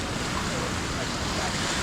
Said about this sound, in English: Look at that surf breaking out there.